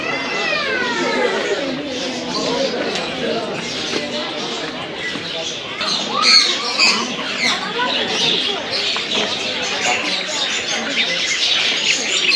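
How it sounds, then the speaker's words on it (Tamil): A flock of lovebirds in an aviary fills the air with dense, overlapping squawks and high chirps, fairly close and continuous, while people talk nearby. "இது ஃபுல்லாக லவ் பேர்ட்ஸ்."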